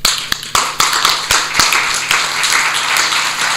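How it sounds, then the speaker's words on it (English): Audience applause at an aviation standards symposium honouring award-winning experts: scattered sharp claps build into steady, moderately loud clapping from a room full of people, with no talking over it. "we can even applaud them again"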